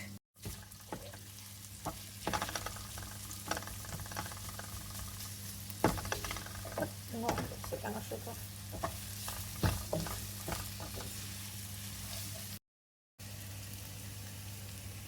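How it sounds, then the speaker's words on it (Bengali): Onion and green chili frying in a pan for a bitter gourd fry, a constant sizzle with scattered scrapes and stirring clatter up close, briefly cutting out near the end, without talk. "করলা ভাজির জন্য পেঁয়াজটা বসায় দিই সাথে একটু কাঁচামরিচ"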